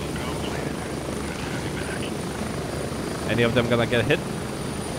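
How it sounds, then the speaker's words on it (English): A helicopter lands in the video game Grey Zone Warfare, its rotor roar continuous and loud throughout, and someone speaks briefly over it near the end. "A lot of people die here actually when the helicopter is landing."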